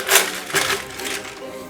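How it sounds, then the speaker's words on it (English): Ice cubes tumble into glass jars in three quick clattering bursts, close and bright, while mixing a pumpkin spiced rum cider cocktail. "I'm gonna fill these jars up with some ice."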